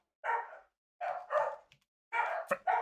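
A dog barks in short bursts, a single bark, then a pair, then another pair, fairly close with silence between.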